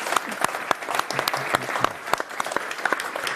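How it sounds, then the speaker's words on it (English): Audience applause for the panelists at the close of an AI and reliability conference in Amsterdam, a steady patter of many clapping hands sustained for several seconds with no talking over it. "So I would say a round of applause for the panelists."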